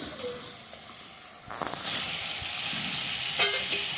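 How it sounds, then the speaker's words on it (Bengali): Spice paste frying in oil starts as a quiet sizzle, then swells into a steady, brighter hiss with a few stirring clatters, heard up close. "মশলাটা ভাজা হয়ে গেলে যখন তেল ছাড়তে শুরু করবে তখন আলুগুলো দিয়ে দেব"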